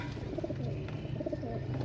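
Close, soft, repeated cooing from pigeons, low throaty calls in overlapping rhythmic phrases with no talk.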